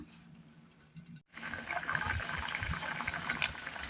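Homemade Kerala-style curry simmering in a pot after hot water is added, with a broad bubbling, sizzling hiss that swells after a brief pause and continues steadily at close range.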